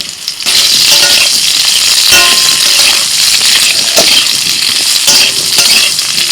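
Potatoes fry and get stirred in a little hot oil with black cumin and green chillies, giving a loud, steady sizzle with scraping strokes of a utensil and occasional clinks against the pan.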